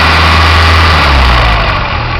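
A carbureted Dodge 2.2 engine idles steadily and loudly up close, a continuous even rumble with no talk over it.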